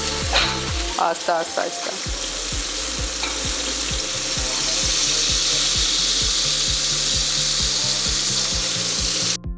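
Spicy chicken sticks sizzle and fry steadily in a pan, with a few scraping knocks as the pieces are turned early on, then a continuous close, loud crackling hiss; someone speaks briefly near the start.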